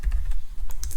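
Rapid typing on a computer keyboard, a quick close run of crisp key clicks with no voices.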